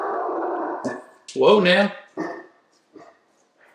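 A dog growls low and steady, then lets out a loud close bark followed by a couple of shorter, softer barks, with someone briefly speaking in between.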